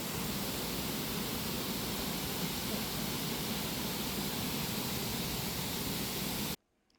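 A splashing water feature in an airport garden, a loud, even broadband rush of falling water that continues unbroken and then stops abruptly.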